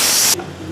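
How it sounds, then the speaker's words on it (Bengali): Ghugni poured into a hot pan gives a loud, close sizzling spray for about a third of a second, then cuts off to a quiet low simmer. "ঘুগনিটা ঢেলে দিচ্ছি।"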